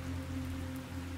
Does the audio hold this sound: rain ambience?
yes